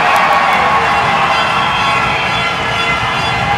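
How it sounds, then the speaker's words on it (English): A packed arena crowd roars and cheers continuously at a Canberra Brave ice hockey game, a loud, dense wall of sustained applause and shouting with no individual voices standing out. "You will hear this crowd be very appreciative."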